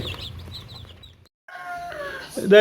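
Hens cluck and chirp in short bursts at close range, with a pause midway, then sharper calls and a rustle at the end.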